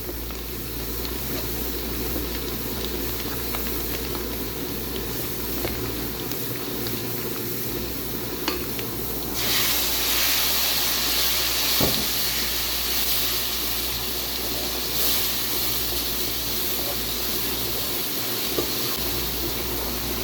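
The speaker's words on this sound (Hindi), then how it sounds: "जो टमाटर की प्यूरी थी मेरे पास वो इसके अंदर ऐड करूँगी।" Tomato puree goes into beef pulao masala cooking in a pot, and a steady close hiss and sizzle swells noticeably partway through, then keeps going as a continuous bubbling, steamy frying sound.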